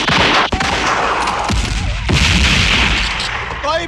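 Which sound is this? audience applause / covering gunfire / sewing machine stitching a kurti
covering gunfire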